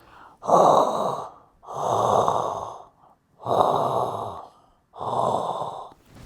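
An astronaut breathes slowly and heavily inside a spacesuit helmet in 2001: A Space Odyssey: four long, loud, close breaths, each lasting over a second, separated by short silent pauses, with no voices.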